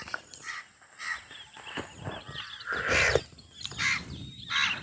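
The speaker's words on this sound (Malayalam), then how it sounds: "കാക്ക കരയുന്നു." A crow caws several times in short bursts, fairly faint and a little distant, with quiet background noise between calls.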